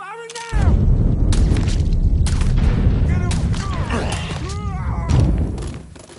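Gunfire in the video game Mafia 3: a dense volley of loud, booming shots and thuds rolls on for several seconds with no quiet gaps, then fades near the end.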